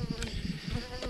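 Honeybees on an overfull hive frame make a dense, steady buzzing hum, close and continuous for about a second, with no speech.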